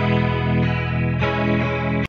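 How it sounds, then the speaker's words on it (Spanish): Electric guitar run through compression and a chorus effect, sustained shimmering chord tones ringing loud and steady for about two seconds, alone with no talk, cut off abruptly at the end. "vas a tener solamente compresión y chorus"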